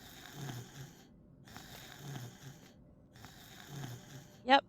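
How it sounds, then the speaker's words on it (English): A character in the video game Night of the Dead snores in three slow, evenly spaced breaths with soft rasping tones, followed by a brief sharp sound at the end. "Yep, he snores."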